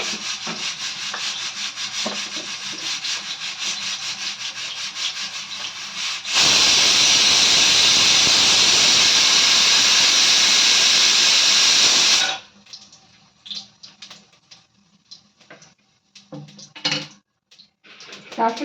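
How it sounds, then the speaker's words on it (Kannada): Mustard seeds spluttering in hot oil in a pan while onions and a curry are being cooked, a dense crackling sizzle that swells loudly in the middle, with lighter pan and kitchen noises before and after. "ಸಾಸಿವೆ ಚಿಟ್ಲಿದಾದ್ಮೇಲೆ"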